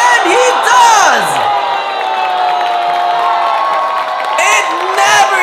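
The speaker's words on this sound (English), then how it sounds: "Firing up the crowd." A large wrestling crowd at a Malaysia Pro Wrestling show roars and whoops loudly and steadily, with a few higher shouts rising above it and a commentator's voice running underneath.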